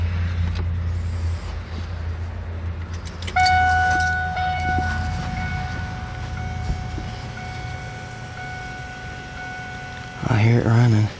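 A Ford 7.3 PowerStroke diesel in a 2000 F350 runs with a low, steady idle rumble after a fuel bowl delete, joined partway by a sustained tonal whine and brief louder bursts near the end, with people talking over it.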